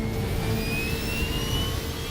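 A jet airliner of about 65,000 kilograms roars down a runway on its takeoff roll, loud and steady, with the engines' whine rising in pitch.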